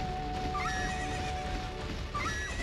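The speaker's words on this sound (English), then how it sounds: "Except they do make just horse noises" A horse whinnies in short, tonal bursts, twice, over a steady hum and soft ambient background, clean and close like a game sound effect, from Ocarina of Time Randomizer.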